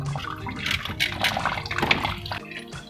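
Coolant water draining out of a Mitsubishi 4G63T turbo engine during an overhaul, an irregular close splashing and trickling, with no talk.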